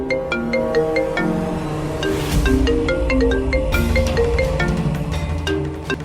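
A phone ringtone plays a steady, repeating melodic tune for several seconds, loud and clear, in a Hindi television drama scene where a doctor is calling.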